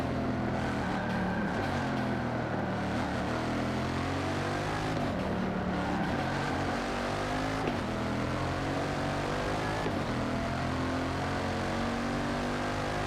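Bugatti Chiron engine in Forza 7, a steady loud roar that rises and falls with revving and gear changes, with no talk over it.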